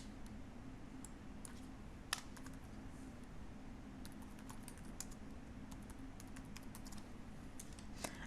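Steady, fast typing on a computer keyboard while renaming a file, a continuous run of light clicks with a few sharper key strikes, close and alone without speech.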